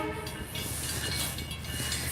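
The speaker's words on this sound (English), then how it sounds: "There's the train." A train rolls past close by, a loud, steady rumble with hissing and rattling wagons that holds without a break throughout.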